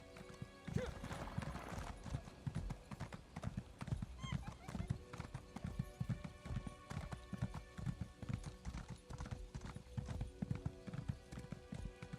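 Steady clip-clop of a horse's hooves trotting in a quick, regular rhythm in the video game Elder Scrolls Online, with a brief whinny and faint talk underneath.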